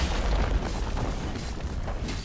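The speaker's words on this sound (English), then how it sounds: "Red team's turret has been destroyed." A turret being destroyed in League of Legends, heard as a loud, deep rumbling explosion with crumbling debris that fills the whole moment.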